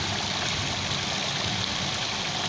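Steady, loud rush of water pouring from a submersible pump in Pakistan, a continuous broadband gush with no pauses and no talking.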